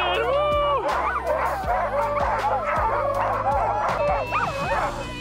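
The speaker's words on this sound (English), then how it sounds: "So he's setting up the dogs on the dog musher so we can go dog mushing." A pack of sled dogs barks, yips and whines loudly and continuously right before a dog sledding run on a glacier, with a dense chorus of overlapping voices close by.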